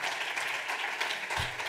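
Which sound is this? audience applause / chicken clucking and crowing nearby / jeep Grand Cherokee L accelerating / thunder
audience applause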